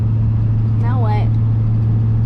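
Car driving on a road trip through the middle of Kansas, a loud steady low engine and tyre drone inside the cabin, with a brief voice heard over it.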